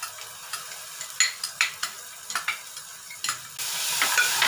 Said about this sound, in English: Fry it a little so the raw smell of the garlic and ginger will go away.